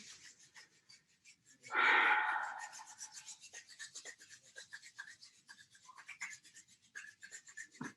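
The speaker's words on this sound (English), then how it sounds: "bring our hands together in front of our chest and start to rub them together, building that heat, that energy" Palms rubbing together during a mindful movement session, a loud swish of friction followed by a steady run of softer rhythmic rubbing strokes, close and alone.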